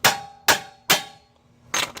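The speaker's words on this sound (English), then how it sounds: "we'll try it with a regular hammer" A regular hammer strikes stubborn front wheel bearing parts on a 2013 Hyundai Sonata, three evenly spaced, ringing metallic blows and then a fourth after a pause, each close and loud.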